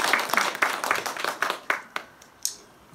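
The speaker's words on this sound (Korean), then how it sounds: "박수 좀 한번 쳐주세요." A handful of people in a lecture audience clap sparsely and unevenly for a few seconds. The claps are faint and thin out toward the end.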